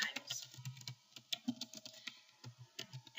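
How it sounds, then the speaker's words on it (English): Typing on a computer keyboard while entering heading text into a document template: a rapid, irregular run of close, crisp key clicks and taps that continues steadily throughout. "as I start typing the information in"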